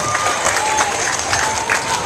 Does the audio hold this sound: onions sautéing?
no